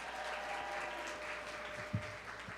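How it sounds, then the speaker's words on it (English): Audience applause at an evening reception honoring women, given for the city's mayor; a steady wash of clapping fills the room at moderate level with no talk over it. "Clap it up again for our mayor, Mayor Wu."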